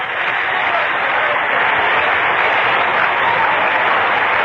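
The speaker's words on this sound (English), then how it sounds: "Cincinnati crowd coming alive now." Baseball stadium crowd in Cincinnati during a Mets at Reds game, a steady dense roar of cheering and applause filling the whole stretch without a break.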